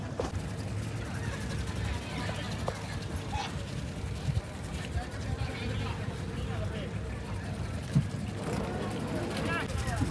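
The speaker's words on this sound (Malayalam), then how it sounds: "ഇപ്പോൾ ബോട്ട് അവിടെ നിന്ന് എടുത്ത് നമ്മളിത് മുന്നോട്ട് പോകാൻ പോകുമായിരുന്നു" A boat pulls away from the jetty at Sambranikodi island, its engine a steady, low rumble running throughout, with voices of people aboard chatting over it.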